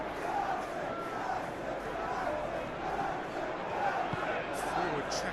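A stadium crowd in the PES 21 football video game reacts to a tackle with a steady, loud roar and murmur that carries on without a break.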